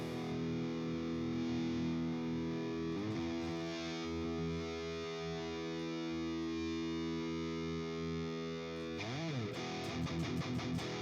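Heavily distorted electric guitar run through a Softube Metal Amp Room amp simulation, sustaining a thick, buzzing chord for several seconds before a quick burst of picked, stuttering strums near the end; no voices.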